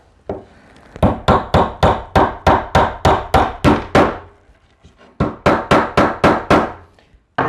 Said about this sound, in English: And then I'm going to take my hammer.